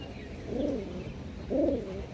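Domestic pigeons give two low, rolling coos, each under half a second and about a second apart, fairly close and clear over a faint steady background hiss, with no talking.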